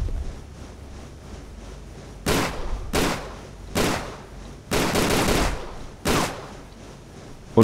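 Automatic weapon fire in Tomb Raider: The Angel of Darkness comes in five or six short, loud bursts, separated by brief pauses over a quiet background hum, with no talking.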